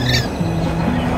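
Rainbow lorikeets squawk in an aviary at Busch Gardens Virginia, a short burst of shrill calls near and loud over busy background chatter.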